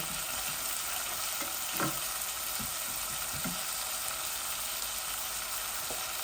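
Chicken sizzles steadily in a pan as it is bhuna-fried with turmeric, chili, curry powder, cumin, coriander and tomato, a dense continuous hiss with occasional soft stirring knocks and pops, with no talk.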